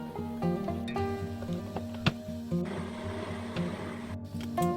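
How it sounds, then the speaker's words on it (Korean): An electric blender whirs as it grinds onion, peach and garlic, a steady, moderately loud motor hum with a few brief knocks and clatters. "양파와 과일을 마늘을 넣고 믹서기에 갈아줍니다."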